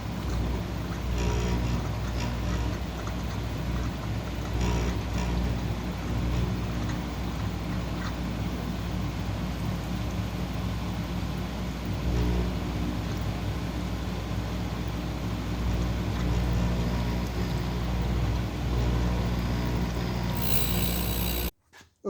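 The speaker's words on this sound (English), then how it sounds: "Okay, so we're grinding the LS valves" Valves from LS Chevy cylinder heads are being ground on a valve grinding machine, producing a loud, continuous, rough grinding drone with a rumbling low end that stops abruptly at the end.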